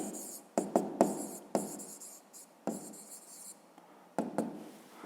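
Handwriting an answer to a fifth-grade maths exercise, pen strokes scratching on paper in short bursts with pauses between, close and fairly quiet.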